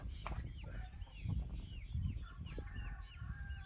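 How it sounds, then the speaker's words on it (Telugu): Chickens at a breeder farm in Khammam give soft, repeated clucks against a busy backdrop of other bird chirps and low rumbling, fairly faint and with no clear talking. "ఇది కోడి పచ్చకాకి."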